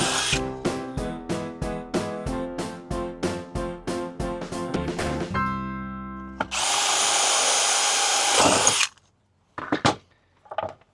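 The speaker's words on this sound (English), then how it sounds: "Now we're just going to drill the rest of these." Power drill boring a series of holes through G10 fiberglass plate for a kick-up rudder, with repeated short bursts of cutting under a steady motor whine, then a longer continuous run and a few brief final spins.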